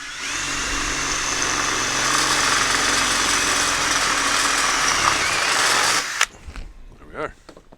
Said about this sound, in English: let's get the drilling. I'm going to drill one here.